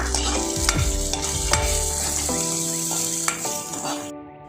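Green chillies, asafoetida and neem leaves spit and sizzle in hot oil as a spoon stirs and knocks against the pan, with steady crackling and a few clangs of metal, close by and without talk.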